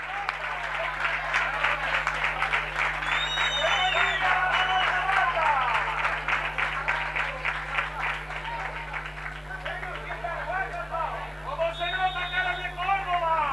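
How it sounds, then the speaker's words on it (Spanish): Spectators at an amateur football match give their captain an ovation, with steady, crackling applause filling the ground for several seconds while a commentator keeps talking over it, then the clapping thins out near the end. "recibe la ovación del respetable"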